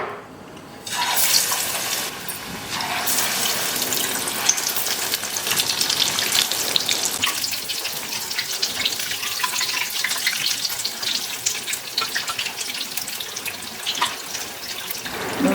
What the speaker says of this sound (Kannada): ಈ ಥರ ಎರಡೂ ಕಡೆ ಚೆನ್ನಾಗಿ ಫ್ರೈ ಆಗೋವರೆಗೂ ಫ್ರೈ ಮಾಡ್ಕೋಬೇಕು